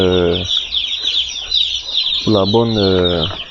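Chicks among a batch of 3000 being released from cartons into a poultry house, giving high, continuous peeping throughout, with two louder bursts of lower, voiced fowl calls at the start and near the end.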